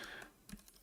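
Quick keystrokes on a computer keyboard, a short burst of soft clicks with one firmer tap, heard close and quiet with no talking.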